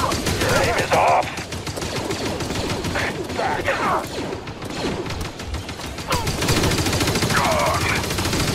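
Blaster gunfire crackles in rapid, overlapping bursts during a battle between clone troopers and purge troopers in Star Wars Jedi Fallen Order, with shouting voices and mechanical clatter mixed in throughout.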